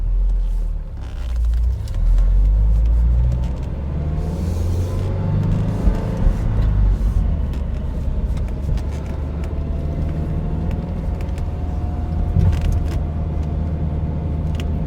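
Road rumble and tyre noise fill a Toyota GR86 / Subaru BRZ cabin as it drives over choppy pavement, a continuous low drone with scattered thumps and knocks, with no voices.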